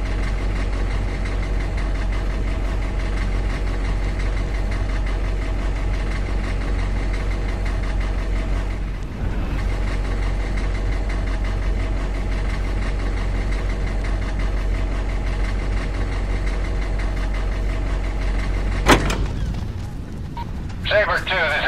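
A military vehicle engine idling in Operation Flashpoint: Dragon Rising, a steady low rumbling drone with faint knocking that runs loud and unbroken, dipping briefly once before a sharp clatter near the end.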